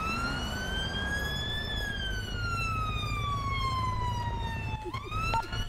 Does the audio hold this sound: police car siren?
yes